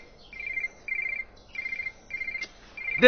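A telephone rings in short repeated electronic bursts with brief gaps, fairly close and clear, alone until a voice begins at the very end.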